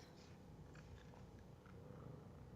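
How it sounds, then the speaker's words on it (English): A soft, steady purr rumbles continuously at close range, low and even throughout with no talking. "I can hear her purring."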